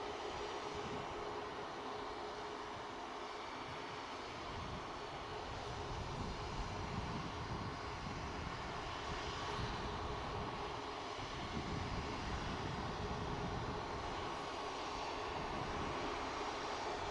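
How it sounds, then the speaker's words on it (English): An Aer Lingus airliner with CS6 engines powering up for takeoff, a sustained deep jet roar with a steady whine, rumbling and slowly pulsing, loud and close with no voices. "Aer Lingus with the CS6 power plants will be powering out"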